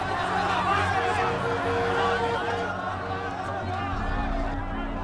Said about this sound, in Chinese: 这些恐慌的人群都是要逃离武汉